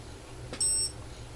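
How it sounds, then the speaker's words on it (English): A Garmin bike computer gives a single short, bright electronic beep over quiet low background noise. "You're not hearing the beep of the Karoo, you're hearing the beep of the Garmin"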